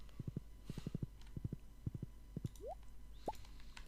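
A horse in the farming video game Stardew Valley clip-clops in quick, light hoof clusters over a steady hum, with two short rising chirps near the end and no speech.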